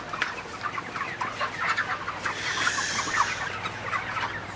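Broiler chickens on day 33 cluck and chatter in a farm shed, many overlapping close calls forming a continuous restless murmur.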